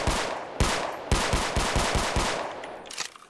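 A gun in a Roblox roleplay game fires a rapid burst of loud, punchy shots, about nine evenly spaced reports with a lingering echo, followed by a short scatter of quieter shots.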